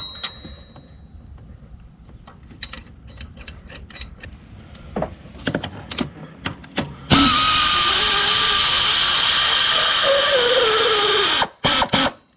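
A power tool whirs in short ticking bursts, then runs continuously for several seconds as bolts are driven into an alternator bracket on a GM 3800 3.8L engine, close and fairly loud.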